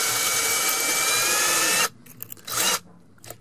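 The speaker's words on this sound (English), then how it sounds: "I'm just going to drill in" A power drill whines loudly and steadily while boring into a sewer pipe, then cuts off abruptly, followed by a couple of short bursts of drilling.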